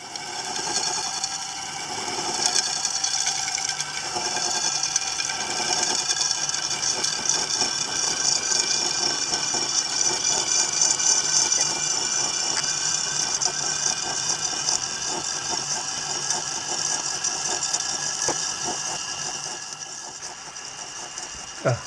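A slitting saw on a milling machine cuts steel pivot blocks for a knurling tool, giving a steady mechanical whir with a fine rapid rattle and a high metallic whine, continuous and close throughout.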